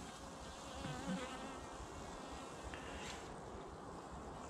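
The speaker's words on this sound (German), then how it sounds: "also auch das ist hier ein schön hübsch großes Bienenvolk" A large honeybee colony buzzes in a steady, faint hum, heard close to the open hive during a winter oxalic acid treatment, with no talk over it.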